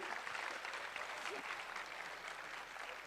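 Audience at an awards felicitation applauding a record holder's parents, a faint, distant wash of steady clapping.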